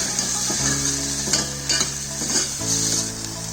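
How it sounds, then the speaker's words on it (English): Tomato puree being stirred into soup in a pan, a steady sizzle with scraping and stirring strokes repeating close by, loud and continuous with no voices. "Add little bit of tomato puree and mix it nicely"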